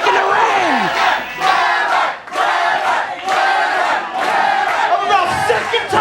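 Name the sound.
wrestling crowd cheering and shouting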